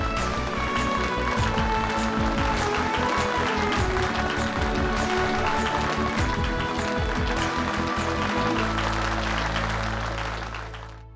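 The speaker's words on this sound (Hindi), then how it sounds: "तालियां" An audience claps to welcome the chief guest, a noted surgeon, onto a stage at a function, loud dense applause mixed with dramatic music throughout, tapering off at the end.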